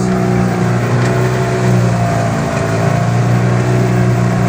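A boat running on two engines on the way to Tinjil island, a loud, steady droning motor hum that holds constant throughout with no talking.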